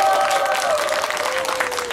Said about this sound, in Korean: 저희 아이들한테 다시 한번 박수 한번 부탁드립니다.